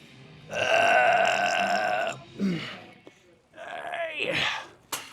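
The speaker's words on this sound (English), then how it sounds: "It's the burping, man." A man burps loudly during an arms-and-traps gym workout: one long, croaking burp, then a second rougher burp after a short pause, close and alone.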